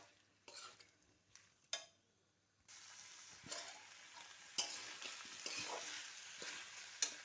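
Fried soybean chunks and boiled potatoes stir-fried in a pan: a few separate scrapes and knocks at first, then a steady sizzle with repeated stirring strokes, all quiet.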